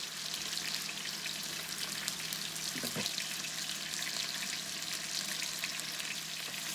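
Garlic cooking in a pan over medium heat, a soft, even sizzle running steadily throughout with a brief low knock near the middle, quiet and without talk.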